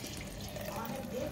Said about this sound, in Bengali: স্যার আলু ধোবে এখন।